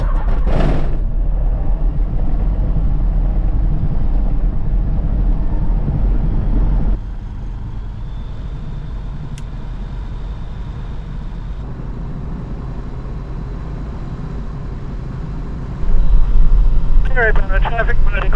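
A Super Dimona HK36TTS motor glider engine runs steadily and loudly nearby, a low droning rumble that drops to a quieter idle partway through and rises again near the end, with a voice speaking over it.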